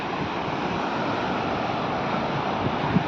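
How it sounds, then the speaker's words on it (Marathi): A continuous broadband wash of Arabian Sea surf rolls on without pause, mixed with wind rushing across the microphone. "हा आहे अरबी समुद्र."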